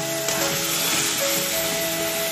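Sliced onions sautéing in a hot pan with oil, a steady, loud sizzle and crackle that holds for a couple of seconds without speech.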